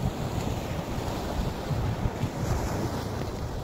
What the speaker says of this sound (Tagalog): Ayan, sobrang alon.